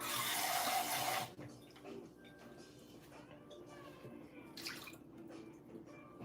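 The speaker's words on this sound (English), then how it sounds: "I'm going to add a little bit of water to that as well." Water splashes and pours steadily into a pot of chili for about a second, then stops, leaving quiet clinks and soft kitchen noises behind.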